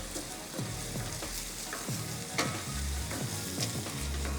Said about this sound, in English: be a little patient when you're sauteing these onions